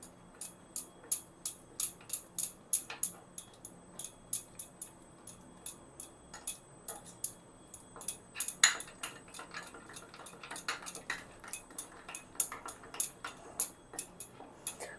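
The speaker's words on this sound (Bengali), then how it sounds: "এবার সব উপকরণগুলো ভালো করে মিশিয়ে নেব দইয়ের মধ্যে" Spices being mixed into yogurt in a bowl, heard as a long run of light, quick clinking taps of a spoon against the dish in an uneven rhythm, close and fairly quiet.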